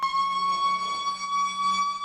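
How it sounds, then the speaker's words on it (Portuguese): A fire station alarm siren sounds a steady, piercing electronic tone, held at an even level throughout and clearly audible in an indoor setting. "sirene tocando"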